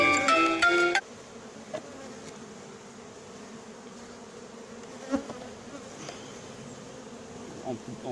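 Constant low buzzing of many honey bees close by while a colony is being hived, with a few soft knocks; a brief bright tonal sound at the very start.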